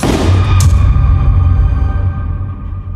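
A single loud gunshot booms in a horror story about a father shooting an aswang, with a sharp attack and a long, rumbling low-frequency decay.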